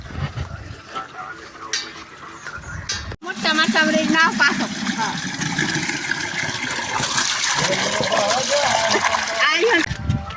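Narmada canal water pours into a farm field, rushing and splashing steadily and close by, a constant gushing flow with a voice speaking over it.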